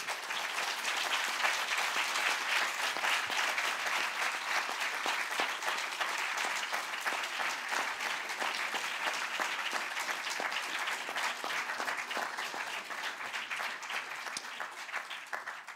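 Sustained audience applause at a talk on Tolkien, dense and steady for the whole stretch, many hands clapping at once with no voices rising above it.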